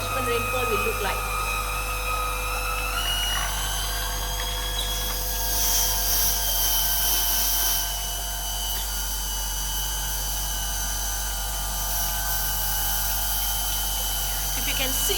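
Laboratory sprinklers spray simulated rainfall over a model catchment, giving a steady hissing water spray over a constant low pump and machinery hum with tonal whine, sustained throughout.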